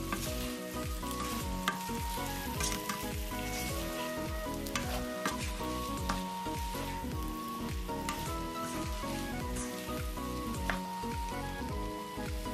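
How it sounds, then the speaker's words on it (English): Beef for rendang sizzles loudly in a pan and is stirred continuously, with a dense crackling fry and repeated scraping strokes from the stirring. "now let's go in with the beef and mix them up thoroughly"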